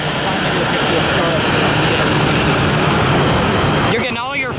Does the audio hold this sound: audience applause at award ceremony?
no